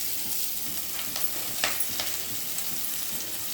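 Curry leaves hit onions frying for dal, a quiet, steady sizzle with a few soft crackles and stirring scrapes scattered through it.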